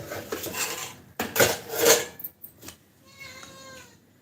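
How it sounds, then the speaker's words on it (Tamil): A cat meows a few times close by, mixed with clinking of dishes and cutlery in a kitchen while chicken is being cooked. "மியாவ் சவுண்டு கேட்குதா?"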